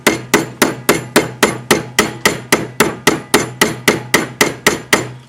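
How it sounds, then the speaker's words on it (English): A hammer strikes a wavy-edged anticlastic metal bangle on a stake in steady, evenly spaced blows, about three per second, each sharp ringing hit decaying quickly, close and loud with no talk. "So you hammer it until it goes to the bottom of the stake."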